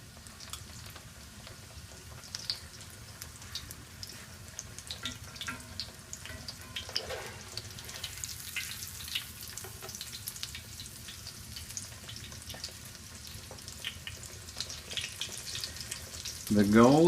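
Schnitzel frying in hot oil in a pan: a steady, close crackling sizzle with scattered pops throughout, ending in a louder burst as the food is moved.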